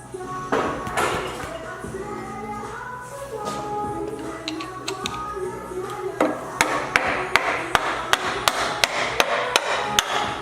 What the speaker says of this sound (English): I'm beating on the bolt